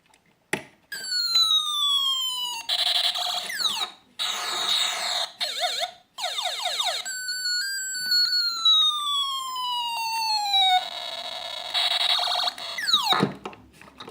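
A sound chip pulled from a toy gun plays electronic siren effects: rising and falling sweeping wails, warbling tones and rapid chirps, loud and close, alone with short gaps between patterns.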